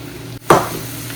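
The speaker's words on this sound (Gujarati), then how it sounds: "હવે એમાં નાખીશું ગાર્લિકને શેકાવી દઈએ પહેલાં, બ્રાઉન થાય ત્યાં સુધી." Garlic dropped into hot oil in a pan bursts into a sudden sizzle after a brief pause, then settles into a steady, close frying hiss.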